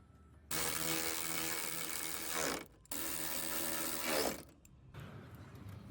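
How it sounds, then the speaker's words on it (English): A ratchet tightens the top bolts on a Toyota Sequoia headlight assembly, making two long, loud, close bursts of fast clicking with a short pause between them. A quieter noise follows afterward, and nobody speaks. "we're gonna go ahead and come up to the top and put our last 2 bolts in"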